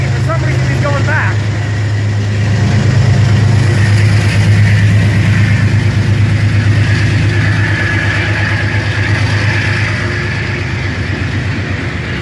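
A Metro North locomotive engine runs steadily with a deep, continuous low drone while shunting equipment around at night at Croton-Harmon, loud and sustained throughout.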